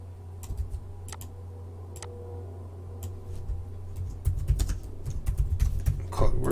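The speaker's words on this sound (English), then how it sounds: "So I'll just type that out." Fingers tap steadily on a computer keyboard, light clicks in quick irregular bursts close by, growing busier and louder toward the end, with no talking.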